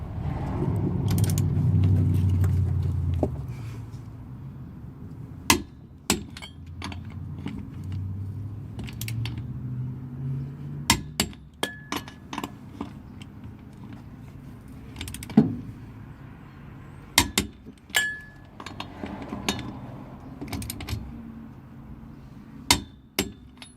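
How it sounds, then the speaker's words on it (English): A torque wrench set to 100 pound-feet tightening car wheel nuts: a sequence of sharp metallic clicks and clunks at irregular intervals, preceded by a low rumbling handling noise. "We're going to give these all a hit with the torque wrench at 100"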